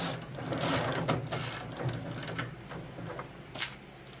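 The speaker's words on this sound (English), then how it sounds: "So now I'm tightening this bolt up here." Ratchet wrench tightening a bolt on an Ariens 1024 Pro snowblower during friction wheel replacement, a steady run of close, dense clicking over about four seconds with no talk.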